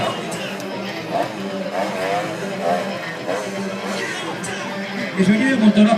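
Stunt motorcycle engine revving at a street show outside a hardware store, buzzing under continuous crowd chatter and a commentator's voice, with brief rising revs and a louder burst near the end.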